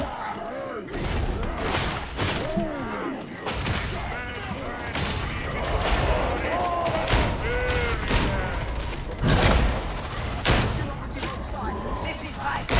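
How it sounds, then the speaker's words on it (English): A flashbang grenade going off during a Warhammer 40,000: Darktide match, a sudden burst amid ongoing gunfire, booms and clanking combat, with players talking over the chaotic battle. "I hear a flashbang!"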